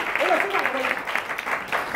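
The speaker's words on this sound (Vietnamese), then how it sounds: "Một tràng pháo tay chúc mừng anh chị." A seminar audience at a Vinalink Group business meeting breaks into applause, a dense clapping texture that sits under a voice speaking over it.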